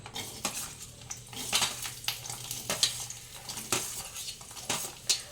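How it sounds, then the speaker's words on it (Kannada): Masala frying in oil in a pan for a dhaba-style chicken gravy, a soft sizzle under repeated clinks and scrapes of a spoon against the vessel, close by with no talking. "ಇದನ್ನಿಷ್ಟನ್ನೆಲ್ಲ ಎಣ್ಣೆಲ್ಲ ಹಾಕಿ ನೀಟಾಗಿ ಫ್ರೈ ಮಾಡ್ಕೊಬೇಕು"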